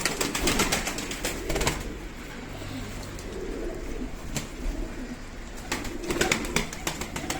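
Pigeons coo steadily in low, throaty murmurs while sharp clicks and flutters pop in and out, close by and continuous throughout.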